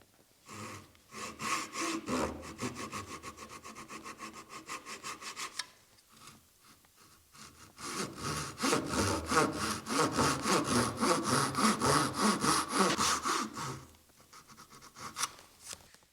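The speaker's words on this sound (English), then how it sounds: "I'm using all of the blade of my saw, or at least most of it." A hand saw cuts dovetail tails in wood, long rhythmic rasping strokes close up, a quick run of strokes, a short pause, then a longer, louder run, with no talking.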